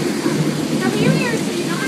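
Steady heavy rain pours down during a rainstorm, a dense, close hiss that fills the whole stretch, with voices faintly audible beneath it.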